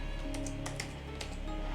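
Keys clatter on a computer keyboard in a short burst of irregular taps, close and moderately loud over a steady low hum, with no voices.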